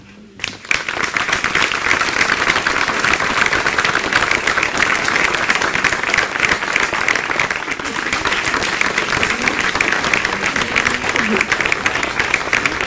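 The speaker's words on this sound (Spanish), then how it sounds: "Así que demos un aplauso de bienvenida." An audience at a town festival proclamation event in Agaete breaks into sustained, dense applause to welcome a musical duo, the clapping starting abruptly and continuing loud and steady throughout.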